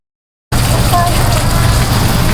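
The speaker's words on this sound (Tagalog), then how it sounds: "Medyo malakas yung ulan." Heavy rain pours down at Club Balai Isabel by Taal Lake in Talisay, Batangas, a dense steady hiss starting abruptly and holding loud throughout.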